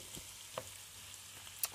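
Chicken hearts and stomachs freshly dropped into a hot pan give a faint, steady sizzle and hiss, with a few small pops and ticks scattered through and no voices.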